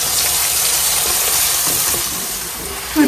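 Loud, steady sizzling of a roast frying in a pan, a dense continuous hiss that eases slightly near the end before a brief louder burst.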